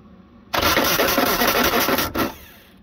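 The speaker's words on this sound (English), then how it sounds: "it turned the engine, but it did skip. The starter did skip." A Suzuki Samurai starter cranks the engine in one loud, steady burst of about two seconds. It breaks off briefly near the end and then resumes before stopping, heard close up with no talking.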